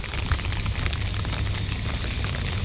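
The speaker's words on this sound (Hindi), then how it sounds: "ढंग से बरसात हो रही है" Heavy monsoon rain pours down steadily outside near a parking area, a dense, even hiss of drops drumming on surfaces with a low rumbling undertone and no break.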